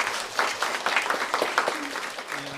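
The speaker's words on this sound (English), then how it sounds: "So yeah, give him some applause." An audience at an entertainment industry panel applauds, a brief burst of dense clapping at moderate loudness that thins out toward the end.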